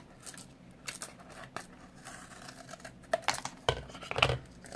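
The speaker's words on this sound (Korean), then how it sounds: "문어 다리를 다 만들고 남은 자 공간은 그냥 오려줘요." Scissors cut into a paper cup while making a paper octopus craft, giving repeated close snips and paper crinkles in an uneven rhythm.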